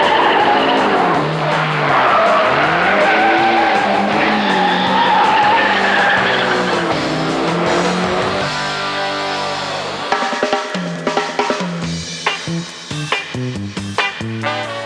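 A Renault 8 Gordini races through a corner with its rear sliding, tires squealing and skidding over a loud, revving engine whose pitch swings and then drops into choppier bursts near the end, with no talking.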